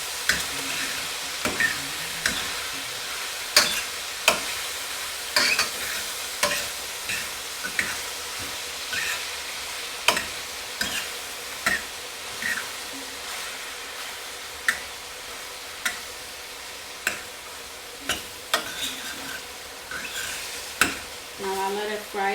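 Beef sizzles steadily in a pan while being fried for split pea soup. A spoon stirs and scrapes it at regular intervals, each stroke giving a sharp, close knock against the hiss.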